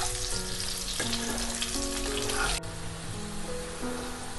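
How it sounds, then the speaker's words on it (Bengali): Potatoes frying with a little salt in a pan, browning for aloo dum, give a steady close sizzle throughout, with a brief stir or shift partway. "আলুটাকে খুব ভালোভাবে একটু লালচে করে ভেজে নিচ্ছি"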